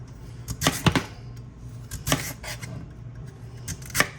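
A sharp knife cuts through hard, peeled sweet potatoes: a few crisp, close chops cluster early, then isolated cuts come at spaced intervals against a quiet kitchen background.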